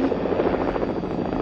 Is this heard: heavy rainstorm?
no